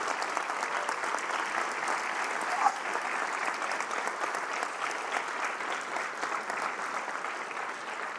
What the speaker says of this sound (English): Can we please give these amazing scholars a round of applause?